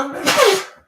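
A single close sneeze, sharp and loud, trailing off quickly with no other sound around it.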